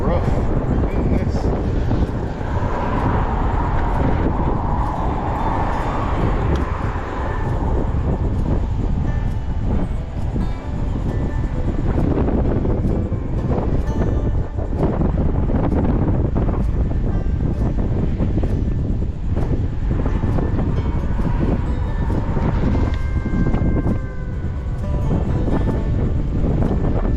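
Strong wind on the water after a hurricane, a loud, continuous rumbling buffet across the microphone with surging gusts and water wash, constant throughout, with someone talking underneath.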